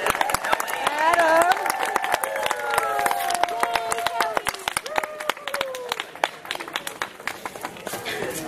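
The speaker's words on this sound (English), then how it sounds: "Big round of applause for Molly, Sarah," Audience applause at a zoo elephant keepers talk, scattered sharp claps from a modest crowd that thin out toward the end, with voices talking over the clapping throughout.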